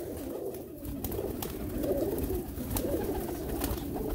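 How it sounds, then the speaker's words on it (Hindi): Pigeons coo steadily inside a rooftop loft of prized birds, a close, continuous low murmur of overlapping coos with soft rustling and no voices. "देख सकते हैं जी कितने नायाब नायाब कबूतर इसके अंदर है"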